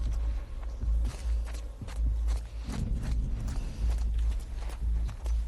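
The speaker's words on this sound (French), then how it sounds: "c'est mes propres bruits de pas que j'entends" The player's own footsteps in The Last of Us Part II, a steady run of soft thuds over a low game ambience, close and even-paced with no talk.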